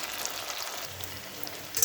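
Fish chops frying in hot oil give a steady, soft sizzle with faint crackling, close and even throughout, with no talking.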